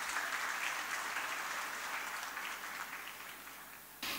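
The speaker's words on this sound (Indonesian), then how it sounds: "tepuk tangan untuk kita semua." Audience applause fills a school graduation and oath-taking ceremony at a vocational high school in Tenggarong, a steady dense clatter of many hands that holds for about four seconds before cutting off.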